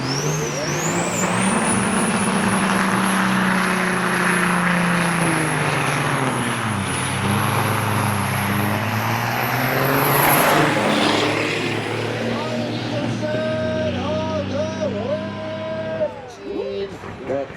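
Big rig trucks race at Onaway Speedway in the Great Lakes Big Rig Challenge, including a red Freightliner and a black and teal Kenworth. Loud, sustained diesel engine roar rises and shifts pitch throughout, with an announcer talking over it.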